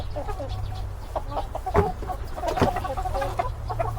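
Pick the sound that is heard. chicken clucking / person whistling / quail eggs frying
chicken clucking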